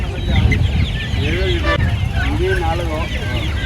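Chickens clucking at a busy poultry market, repeated close clucks and short calls over a constant background murmur of crowd and traffic, with people talking nearby.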